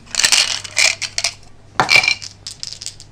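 Hard Zombie Dice clatter and rattle as they are rolled across a table, two quick bursts of tumbling clicks with a short pause between, close and clear.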